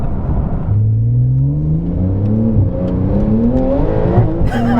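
A Porsche 992 Turbo S with all-wheel drive accelerates hard, its engine note climbing steadily through repeated rising sweeps as gears change, loud and close with no talking.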